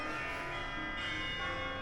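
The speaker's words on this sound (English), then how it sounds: "There's the church bells." Church bells ring in the town of Sulmona, a steady, dense wash of overlapping bell tones and harmonics heard indoors from a spacious room, fairly faint and continuous with no talking.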